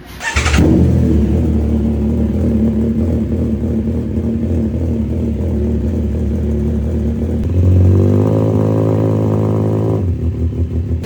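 A CFMOTO 675SR-R motorcycle engine with a noisy timing chain starts and idles with a rattly mechanical clatter, revs up briefly near the end, then drops back to idle. Close and loud.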